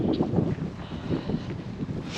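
Wind buffets a microphone outdoors on a former dairy farm nature reserve, giving a steady low rumbling roar that swells and fades throughout the short clip with no speech.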